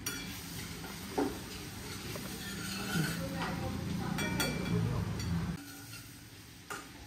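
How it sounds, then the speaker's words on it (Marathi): Onion fries in a pan for an aloo bhuna recipe, a steady moderate sizzle with occasional utensil clicks and stirring, dropping off near the end as the cooking sound fades. "आपण आता कांदा घालतोय"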